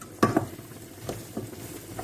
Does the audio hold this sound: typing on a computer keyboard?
no